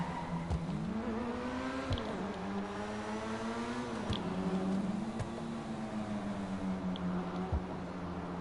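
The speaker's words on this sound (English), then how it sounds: "Last ride in the 570, Tom." A 570 car drives on its last ride, its engine a steady, moderately loud interior drone rising and falling in pitch with gear changes, with occasional thumps from the road.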